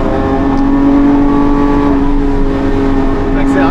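Lamborghini Aventador LP780-4 Ultimae with its V12 engine pulling hard under acceleration, a loud sustained roar with rising engine tone heard from inside the car, while someone talks excitedly over it.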